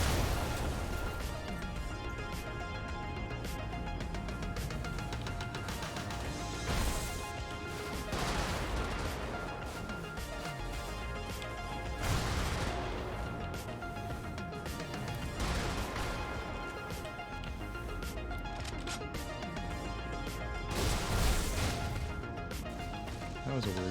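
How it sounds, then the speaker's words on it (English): Explosions in the video game Brigador sound as a string of heavy booming blasts, several loud bursts spaced a few seconds apart over a dense rumbling game soundscape, with a voice talking faintly in places. "That was a weird set of explosions."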